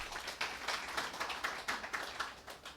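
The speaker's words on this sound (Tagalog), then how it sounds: "Tagaan natog buhi nga palakpak ang ato ang buhi nga Dios." A church congregation gives a round of applause during a Sunday worship service, a faint, steady patter of many hands clapping with soft rhythmic peaks, no voices over it.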